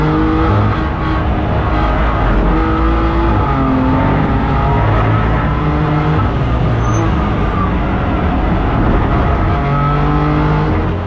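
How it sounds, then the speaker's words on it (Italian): A BMW race car runs during a circuit race at Misano, a loud, continuous engine roar shifting through rising pitches as it accelerates, with commentary talking over it. "Zanasi, che pure è tra i top driver del campionato, fa fatica in questo momento a trovare il varco per passare Salvadori"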